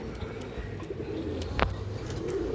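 A female racing pigeon coos once, a short wavering call rising over steady low background rumble and noise.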